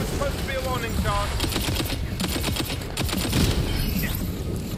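Gunfire in Tiny Tina's Wonderlands crackles in rapid, loud bursts of sharp shots over busy game effects, with a voice talking in between.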